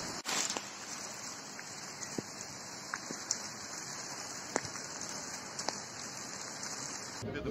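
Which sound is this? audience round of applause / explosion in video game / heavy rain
heavy rain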